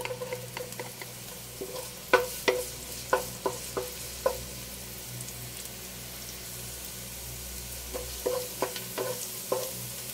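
Garlic sautéing in a pan for a shrimp and vegetable dish, a quiet steady sizzle broken by scattered sharp clicks and taps of a utensil stirring against the pan.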